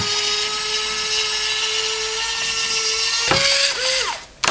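A small electric drill whines at a steady high pitch while a model aircraft kit is assembled, then slows and stops with a brief rattle, loud and close.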